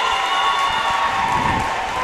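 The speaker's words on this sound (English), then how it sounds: "Let's give one last round of applause for all 3 of our seniors, Raina," Steady applause from a crowd at a high school senior night game, continuous clapping with a broad wash of noise and a few scattered cheers, fairly loud and close.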